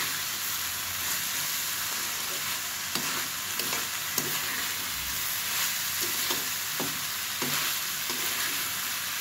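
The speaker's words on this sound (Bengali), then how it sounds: "এখন ভেজে নেবো খুব ভালো করে" Potato and bitter gourd frying in plenty of oil, a constant loud sizzle close by with repeated scraping stirs of a spatula across the pan throughout and no one speaking.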